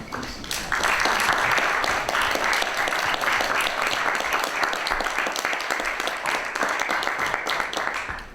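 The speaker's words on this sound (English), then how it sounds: "So let's applaud Marianne" Sustained audience applause for a guest speaker at a science-and-cocktails evening talk, a dense steady wash of many hands clapping that swells in quickly and holds at full loudness throughout.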